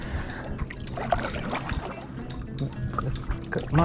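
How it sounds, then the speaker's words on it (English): A paddle dips and pulls through calm water beside a small boat, close-up trickles and splashes with soft drips between strokes, and a louder slosh at the end. "We're just going to go for a little paddle"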